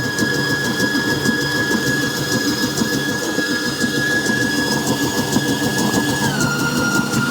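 A Hauswirt digital stand mixer runs continuously while creaming, giving a steady mechanical whir with a constant high whine that drops slightly in pitch near the end, close and alone without talk.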